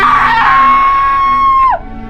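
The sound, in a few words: shriek of a character in a Thomas the Tank Engine story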